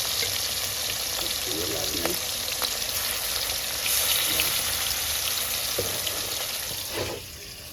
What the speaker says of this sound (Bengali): মৌসুমি ভাজবে মাছগুলো আমি ছেড়ে দিই। কাতলা মাছ একবার দিতে হবে।